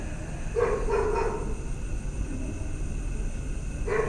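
Dogs barking at night, a few far-off barks in two short bursts over a steady low background hum, with no one talking.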